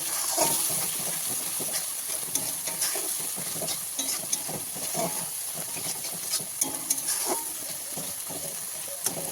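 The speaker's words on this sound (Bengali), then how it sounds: "এবার ভালো করে যতক্ষণ না তেল ছাড়ে ততক্ষণ ধরে আমার কষাতে হবে" Spice mix for rohu fish rezala being stir-fried in oil until it separates makes a continuous soft sizzle with scattered stirring scrapes and light clinks throughout.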